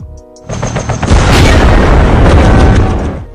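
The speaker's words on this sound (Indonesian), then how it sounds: "helikopter itu pun tiba-tiba saja meledak di sana dan menewaskan isinya" A helicopter blows up in a film scene: a few sharp clicks, then a sudden massive boom swelling into a dense, roaring blast that rumbles loudly for several seconds before easing slightly.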